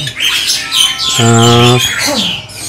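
A white starling (jalak putih) chick squawks loudly during hand-feeding, giving a strained, harsh begging call with a sustained tonal middle section, close to the microphone with no talk over it.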